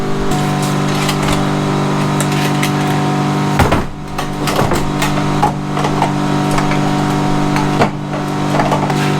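Ice bank refrigeration unit in a dairy shed runs with a steady, loud mechanical hum and tonal drone throughout, with occasional clunks and knocks layered over it.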